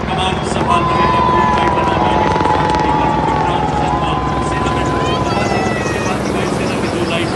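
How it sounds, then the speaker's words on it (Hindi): Apache and LCH Prachand helicopters fly in diamond formation over a Republic Day parade, their rotors thudding in a loud, steady rhythmic drone while a commentator talks over the noise. "डायमंड फॉर्मेशन में अपाचे और एनसीएच प्रचंड कमान संभाल रहे हैं"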